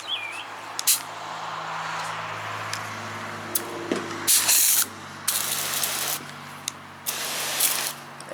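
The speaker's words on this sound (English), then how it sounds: "let's rinse the car off so we can take a look at the actual spray nozzle and see what different spray patterns are available" A garden hose spray nozzle on an expandable hose rinses a car, giving steady hissing water spray in several bursts with brief pauses and clicks between them, close and fairly loud, with no talk.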